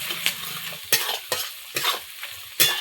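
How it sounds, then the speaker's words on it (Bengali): Onions fry with dry chilli powder and roasted cumin powder as a spoon stirs the pan, giving a steady sizzle broken by several scraping strokes close up. "এখন দিয়ে দিব শুকনো লঙ্কার গুঁড়ো আর ভাজা জিরের গুঁড়ো। এবার একটু ভেজে নেব।"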